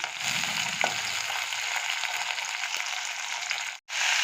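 Onion, garlic, nigella seeds, dried and green chillies and lentil bori frying in a pan make a steady, close hissing sizzle that cuts out briefly near the end.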